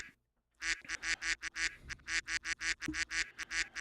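A person imitates a duck, giving a rapid run of about fourteen nasal quacks in close, even rhythm after a brief silence, loud and near.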